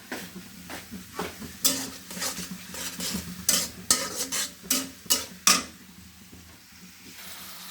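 Spices including turmeric, chili, cumin, coriander, ginger, garlic and bay leaf sizzle in a pan while a utensil stirs them in a series of sharp, scraping strokes, close by; the stirring stops near the end, leaving a soft hiss.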